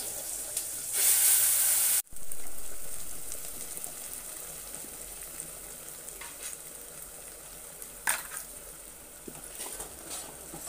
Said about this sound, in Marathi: चटणी चांगली ना तेलामध्ये ही परतून घ्यायची आहे।